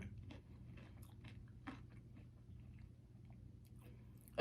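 Close, quiet bites and chewing on delivered hot chicken with a sweet Asian-style spicy sauce, soft wet crunches repeating irregularly over a low steady background hum.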